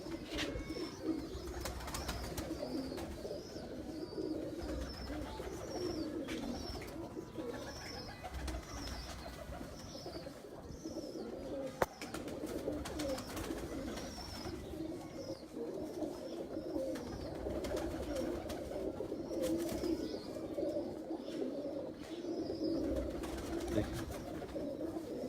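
Pigeons coo steadily on a rooftop in a pigeon-keeping setting, a continuous layered murmur of low cooing from several birds, with faint higher chirps and occasional brief handling noises, no talk.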